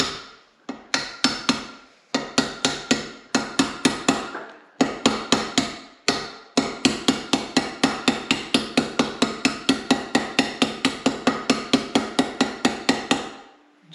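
A hammer taps steel around the edge of a New Holland TC26DA tractor's rear axle bearing in a steady series of sharp, close metallic strikes, with a few short pauses between bursts.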